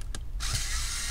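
A small screw is removed from an MSI GF63 Thin laptop motherboard during a teardown: a brief tap and then a close, steady mechanical whir, like a small driver turning.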